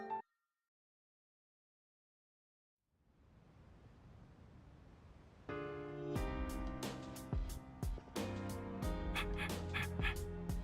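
Koromaru, the dog in Persona 3 Reload, gives a short bark, followed by a quiet gap. Game ambience then swells in, and a soft piano-like melody enters.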